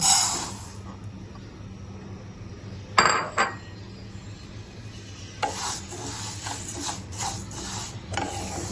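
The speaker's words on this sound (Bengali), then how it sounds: "আমি মাসকলাইয়ের ডালগুলো একটি ফ্রাই প্যানে ভেজে নিব।" Maskalai dal dry-roasting in a frying pan, with a rattling clatter of lentils and a spoon scraping the metal in short bursts, a sharp clank near the start, close and fairly loud with no talk.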